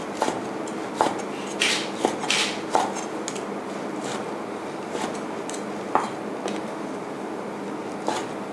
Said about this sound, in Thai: ทีนี้เราก็นำหมูนะคะมาหั่นให้เป็นชิ้นพอคำนะคะ